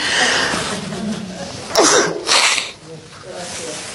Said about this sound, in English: because I'm cutting up onion, excuse me while I sneeze